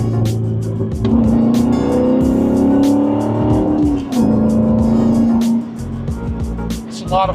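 A manual car's engine revs up and down loudly as it downshifts with rev matching, the pitch rising and falling smoothly over several seconds, with rhythmic clicks and a brief rev blip near the end.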